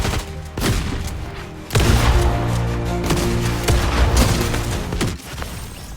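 Rapid bursts of gunfire in a video game firefight, loud booming shots layered over a dense, continuous rumble of battle noise for several seconds.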